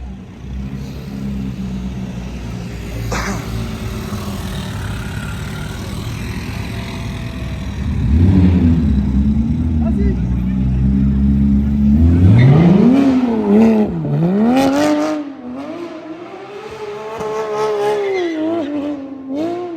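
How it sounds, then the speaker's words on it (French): A Lamborghini Huracan and a Porsche launching hard together on a Paris street, loud engines rising in pitch through rapid gear changes, close by, then fading slightly as they pull away. "ils font les deux launch control comme ça, Huracan Porsche"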